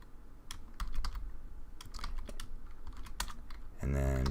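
Someone types on a computer keyboard at a desk, with quick irregular clicks up close. A low hum or other noise joins at the very end.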